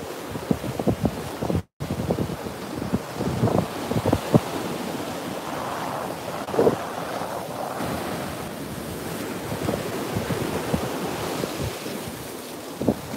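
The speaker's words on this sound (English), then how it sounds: "These waves are coming a little closer to the shoreline." Ocean waves break on a beach shore as Hurricane Dorian approaches, with gusty wind buffeting the microphone; surges rise and fall irregularly and the wind noise stays loud and close throughout.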